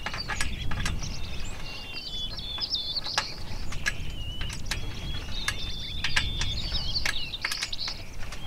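Ratchet tightening a nut on a trampoline net support pole, giving a series of quick clicking strokes with birds chirping outdoors in the background.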